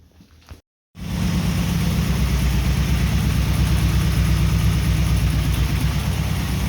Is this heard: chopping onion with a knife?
no